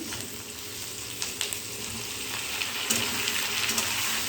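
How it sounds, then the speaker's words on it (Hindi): Tomatoes frying with onions in a pan, a steady close sizzle with faint crackles and a few soft clinks from a utensil, no voices. "पियाज टिके भाजी हो गला परे एबे मु टमाटो पकई दूची।"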